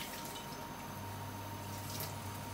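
Vegetable oil is poured into a heated pan for chicken curry, a soft, steady liquid trickle with faint dripping and a low background hum, with no talk.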